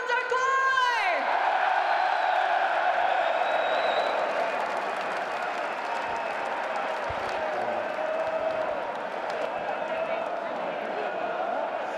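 A large crowd at a Call of Duty League Major II esports tournament applauds and cheers loudly and steadily for Toronto Koi, with whoops over the sustained roar and a voice calling out at the start.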